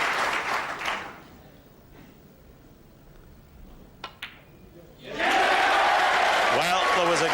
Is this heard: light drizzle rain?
no